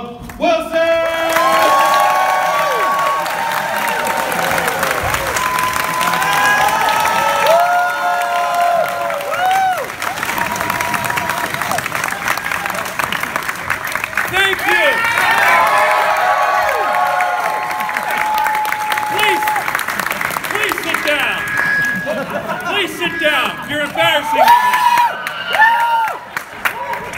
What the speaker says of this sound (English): Make some noise from Back to the Future, Mr. Tom Wilson!